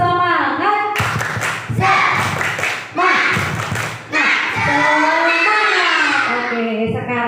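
Schoolchildren at an elementary school Maulid Nabi event performing the tepuk semangat clapping chant, voices chanting loudly between bursts of sharp group claps in a rhythmic call-and-response pattern.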